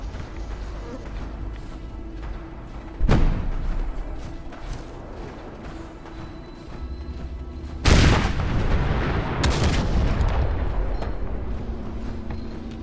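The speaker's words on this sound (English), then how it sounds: "The explosions warned us we were not alone" Explosions in the video game Fallout 4, heard as two loud, sharp booming blasts a few seconds apart, each followed by a rumbling tail over a steady low background of game ambience.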